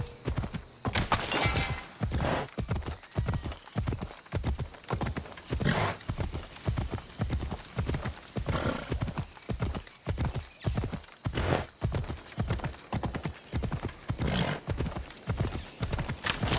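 Steady clip-clop of horse hooves trotting at an unhurried pace in Assassin's Creed Odyssey, close and clear, continuing throughout with an occasional whinny.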